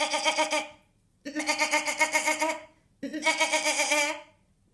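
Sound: lamb bleating

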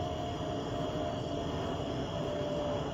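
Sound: jet airplane landing at O'Hare Airport

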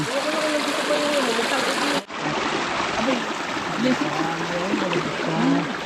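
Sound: mountain spring water flowing through hoses

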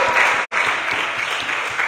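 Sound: congregation cheering and applauding for God

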